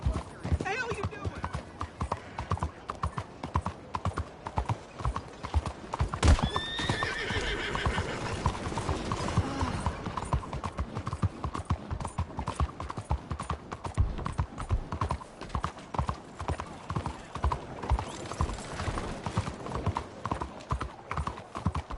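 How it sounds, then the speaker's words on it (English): Horse hooves clip-clop in a rapid, steady rhythm throughout, with a loud neigh partway through, while other noises mix in around them. "You ought to take care of that horse there."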